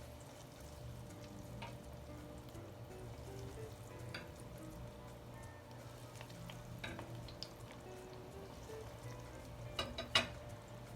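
Saltfish balls frying in hot oil give a quiet, steady sizzle with faint bubbling, broken by a few soft clinks and taps of a utensil near the end.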